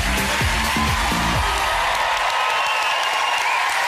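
Studio audience at a Saturday night TV entertainment show bursts into loud, sustained applause with cheering and whoops, filling the room after a brief musical sting at the start.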